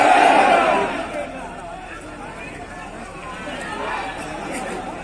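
A large crowd at a political rally in Baharagora roars a chant of Jai Jharkhand, loud at first then easing into a sustained, distant murmur of voices.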